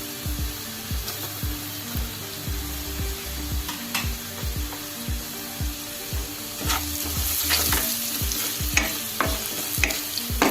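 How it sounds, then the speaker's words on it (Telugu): Onions sizzling in a pan with turmeric and salt while a utensil stirs them, a steady close fry punctuated by regular scraping strokes and a few clinks, with no talk. "ఉల్లిపాయ ఎర్రబడిందండి, వేగింది. పసుపు వేసాను, ఉప్పు వేస్తున్నాను"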